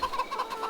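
Chickens clucking inside Farming Simulator 22, a run of short clucks and murmurs repeating close by with no talk.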